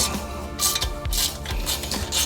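Brake pad bolts on a Porsche 718 Cayman S being undone with a T55 Torx bit: repeated ratcheting clicks and metallic grinding in rhythmic bursts, loud and close.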